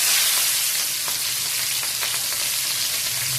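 Green chillies hit hot oil already spiced with mustard seeds, cumin and asafoetida over a high flame, giving a steady, loud hissing sizzle with faint crackles throughout.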